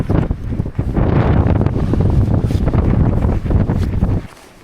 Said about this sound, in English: Gotta get out of the wind, it's too cold.